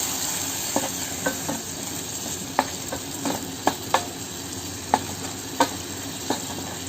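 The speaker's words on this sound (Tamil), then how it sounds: "இப்போது அதில் நம்ம வச்சுருக்க இந்த மிளகாய் பூண்டு விழுதை ஆட் பண்ணி வதக்குவோம்." Chili garlic paste frying with softened onions in a pan gives a steady close sizzle, broken by occasional sharp scrapes and taps of a spoon stirring against the pan.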